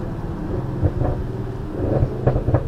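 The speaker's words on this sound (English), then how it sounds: "and downshifts that crackle and pop like that," Audi RS6 with 730 bhp rumbles deeply on a downshift, with a few sharp pops and crackles breaking through a loud, uneven exhaust burble, heard without talk.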